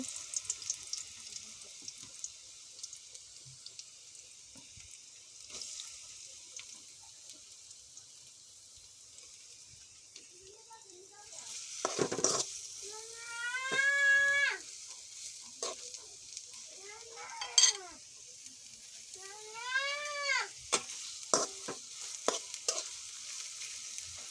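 Chopped onions frying in a little oil, a steady low sizzle with occasional louder stirring scrapes, close by, while a few drawn-out tonal calls rise and fall in the background.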